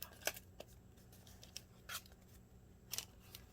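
Scissors snipping a paper envelope flap close by, a handful of sharp, separate cuts spaced irregularly over a quiet background.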